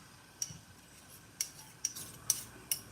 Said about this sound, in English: Push the burr forward with our little pink stone.